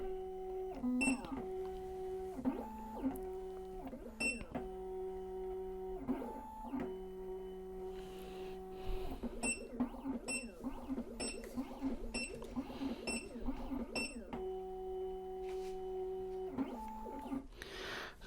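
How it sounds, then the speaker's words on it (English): A Black Widow key machine decoding a six-pin Sargent key, with stepped whirring motor tones that start and stop repeatedly, mechanical clicks and a faint electronic hum throughout. "Now the machine will actually decode it for us."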